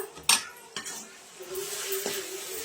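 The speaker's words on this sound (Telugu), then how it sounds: "మనం తురుముకున్నాం కదా ఈ మామిడికాయ అంతా దీంట్లోకి వేసేద్దాం" Grated raw mango tipped into a pan for mango pulihora, giving a few sharp clinks of a utensil against metal and then a soft, low rustle and stir with a faint sizzle.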